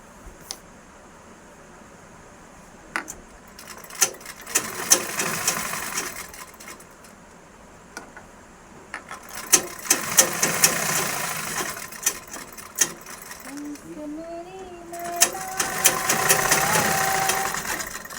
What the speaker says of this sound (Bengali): তারপরে জয়েন করবো এটা সেলাই করে